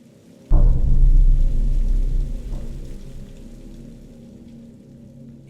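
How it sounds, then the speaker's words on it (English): A heavy rainstorm sets in with a sudden loud burst of dense, roaring rain and a low rumble, then slowly eases while staying steady and close. "A heavy rainstorm had set in,"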